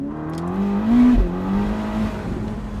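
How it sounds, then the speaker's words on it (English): A Ferrari SF90 accelerating hard on fresh tarmac with warm tires, its engine note climbing in a strained, loud whine, dipping briefly at a gear change before rising again, with wheelspin. "the whole car just lunges as I go into 3rd gear, spinning the wheels"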